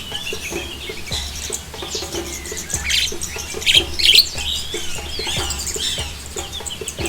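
Jalak perling starlings in an aviary give sharp chirps, squawks and whistled calls in irregular bursts, with the loudest cluster in the middle, over a low background hum.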